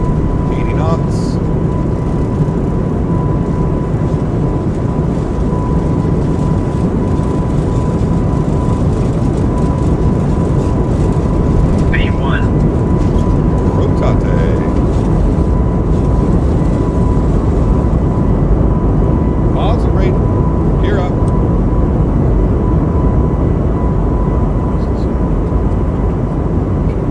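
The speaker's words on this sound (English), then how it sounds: "Takeoff power set." Synaptic A220 airliner in Microsoft Flight Simulator 2024 during its takeoff roll in cold weather, a steady loud jet engine roar with a constant whine, continuous throughout, with occasional faint clicks and brief cockpit sounds.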